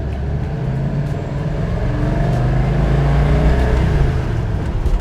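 A 1970 Plymouth 'Cuda AAR pulling hard in second gear, deep rumbling V8 drone climbing steadily in pitch and loudness, heard from inside the car with no talk.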